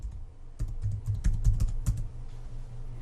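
A computer keyboard is typed on briefly, a quick close run of soft keystrokes lasting a couple of seconds before fading into quiet room hum, with no talking.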